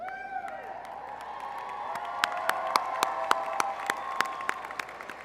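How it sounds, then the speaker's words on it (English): Graduates at a West Virginia University College of Education and Human Services commencement cheer and clap for their families: a large crowd's applause swelling into sharp, rhythmic claps with whoops, heard from within a big hall. "Graduates, would you stand up, turn to your families, and give them the rousing mountaineer cheer they deserve?"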